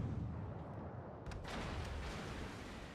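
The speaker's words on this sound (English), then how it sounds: "so might as well open up with my guns" Naval guns firing in World of Warships, deep booming rumble with a sharper burst of shots mid-way, steady and loud throughout with no voices.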